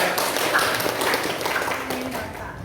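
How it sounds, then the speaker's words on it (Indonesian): An audience in a teacher-training classroom session claps: a steady patter of many hands, moderately loud and fairly even, with voices faintly audible underneath. "Oke, tepuk tangan lagi."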